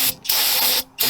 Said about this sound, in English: Get your brake clean.